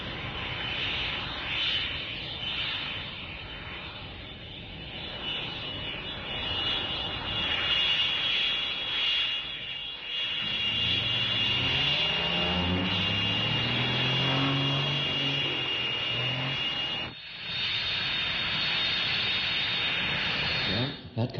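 F-86D Sabre jet taxiing on an airfield, a continuous loud whining turbine roar that swells and shifts pitch as the aircraft moves, with a radio voice speaking over it partway through.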